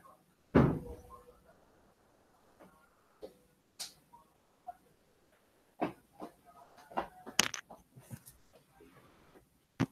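A loud door thud opens the stretch, followed by a series of scattered knocks, clicks and taps at irregular intervals in a quiet indoor room.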